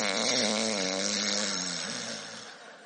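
A recording of a person snoring played back from a mobile phone: one long, rasping snore on the inhale that fades toward the end, loud and clear with no speech.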